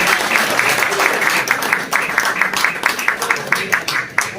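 Crowd applause at a pigeon tournament award ceremony in Kashmir, a steady dense patter of many hands that grows choppier with sharper individual claps toward the end, with a voice mixed in.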